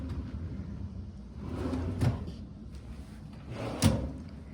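Hotel room drawers slide open and shut twice, each a soft rumbling glide ending in a muted knock, close by in a quiet room.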